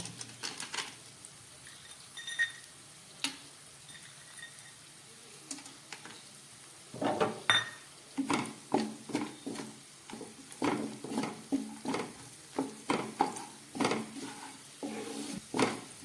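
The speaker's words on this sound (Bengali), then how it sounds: "এবার এই তেলের মধ্যে আমি কিছুটা কাজু ভেজে নেব" Cashews frying in oil in a pan, with a faint sizzle beneath a run of sharp spatula clicks and scrapes that grow busier and more rhythmic in the second half.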